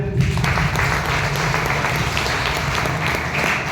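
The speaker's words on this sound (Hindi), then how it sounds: "वाह, एक जोरदार ताली हो जाए।" A large audience at a business success-stories talk breaks into loud, dense applause that holds steady from start to finish, with no voice over it.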